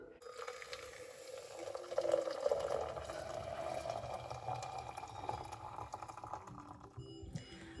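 Boiling water poured from a kettle into a glass French press at home, a steady close pouring and trickling stream that swells slightly mid-way and runs continuously before stopping near the end.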